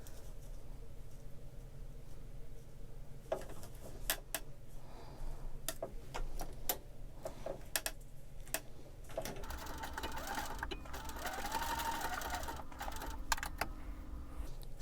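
A Necchi sewing machine stitches through interfacing and Velcro on a cord keeper, running in steady rapid bursts with brief pauses and sharp clicks, loud and close throughout.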